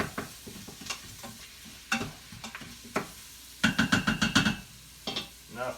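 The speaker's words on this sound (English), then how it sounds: "All right, one last stir." Ingredients for black-eyed peas are stirred in an Instant Pot, with a spoon scraping and knocking against the pot in scattered strokes, then a quick cluster of taps near the end.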